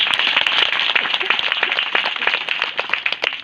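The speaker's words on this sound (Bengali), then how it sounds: "আসলে আমরা জোরে প্রভুর জন্য হাততালি দিই।" A congregation at a Christian revival meeting claps loudly for the Lord, a close, vigorous burst of many hands with sharp individual claps that thin slightly toward the end.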